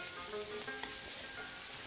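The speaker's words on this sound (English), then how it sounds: "stir frying the beef, right?" Beef for teppanyaki stir-fries in a hot pan, giving a loud, steady sizzle throughout with faint stirring scrapes and no talking.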